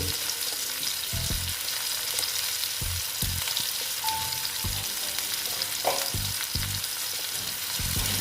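Ground cumin and coriander powder sizzle and fry in a pan, with repeated soft scraping strokes as the spices are stirred, a steady close hiss throughout.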